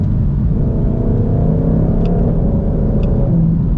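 A 2022 Shelby GT500 engine in sport mode gives a loud, close, steady rumbling drone that holds throughout with no clear breaks, and no one speaks over it.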